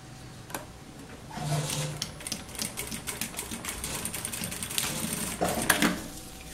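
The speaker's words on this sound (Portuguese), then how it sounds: "Eu fiz uma costura de vai, vem, retorna e volta novamente." A sewing machine stitches forward and reverse over the same seam of a fabric pencil case, giving a loud close rapid mechanical chatter that runs steadily, with short pauses and a few sharper clicks between passes.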